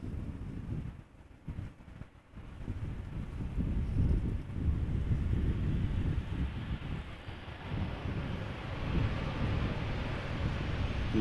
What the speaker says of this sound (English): I do feel that wind is picking up a little bit